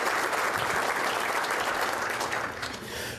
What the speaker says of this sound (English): Can we give the Crown Plaza staff a round of applause?